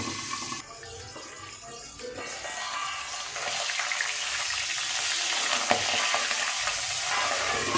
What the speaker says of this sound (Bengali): তেলটা গরম হয়ে গেছে। আমি এবার মাছগুলো ছেড়ে দেব।